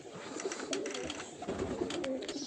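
Close, soft cooing from a male racing pigeon among other birds, repeated low coos with faint chirps and rustling in the background, no talk.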